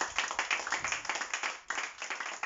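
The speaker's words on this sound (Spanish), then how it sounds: "Denle un aplauso al Señor." Church congregation applauding together at a worship service, a dense, steady wash of many hands clapping at close range throughout, with a brief dip partway through.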